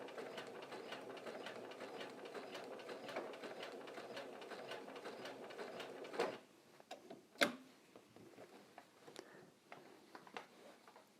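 Sewing machine stitching straight lines in a quilt: a fast, steady mechanical whir and clatter for about six seconds, then it stops, leaving a few isolated clicks and light handling sounds.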